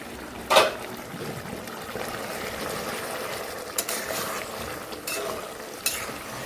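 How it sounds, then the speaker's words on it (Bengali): A chicken gizzard and liver curry with a little added gravy is stirred in a pan after the lid is lifted: a loud scrape and clack of the spoon, then a soft sizzle under several lighter knocks. "ঢাকনাটা তুলে নিই নিয়ে একটু নাড়িয়ে দিই"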